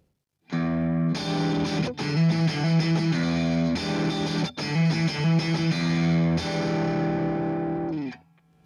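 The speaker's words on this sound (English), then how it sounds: "Crunch channel." Electric guitar through a crunch amp channel, played with a pick: mildly distorted chords and picked notes ring out in bursts with short breaks, then a final chord fades away.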